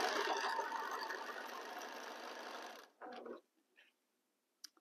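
A sewing machine stitches a seam through fabric pieces being joined into a block, running as one steady continuous burst for about three seconds, then a short restart and a few faint handling clicks before quiet.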